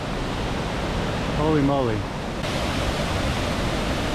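Oneonta Gorge waterfall in the Columbia River Gorge roars as a steady, loud broadband rush close by, with a man's brief exclamation rising over it midway.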